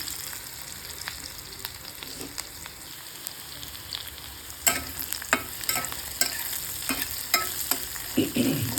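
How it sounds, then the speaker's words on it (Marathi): Onion sautés in a pan for an okra dish, a steady frying sizzle broken by repeated scraping strokes and small clatters of the spoon, growing busier and louder in the second half. "कांदा थोडंसं असं चांगला परतला"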